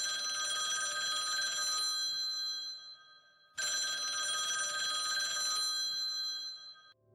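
An old-style telephone bell rings in two long, loud bursts separated by a short pause, sounding alone with no voices, as part of a spoken bedtime story.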